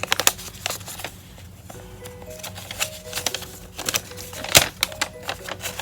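Plastic wrapping of a small craft kit with foam pieces being cut open, giving scattered crinkles, snips and light tapping clicks at close range, with a faint tonal hum underneath.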